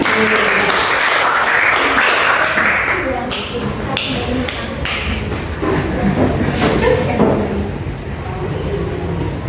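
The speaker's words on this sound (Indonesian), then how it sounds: "beri tepuk tangan buat Mbak Isna" A classroom full of people clapping steadily for several seconds, a dense patter of hands with voices murmuring underneath.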